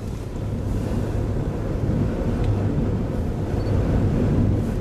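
Strong wind buffeting on a mountain road on the Digor route, a steady loud low roar of gusts battering the microphone throughout, with no talk.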